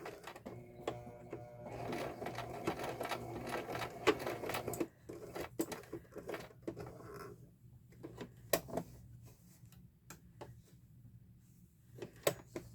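A sewing machine runs in short stitching bursts through fabric, with rapid mechanical clatter and clicks, moderately loud and close, stopping and starting between stitches with no talking.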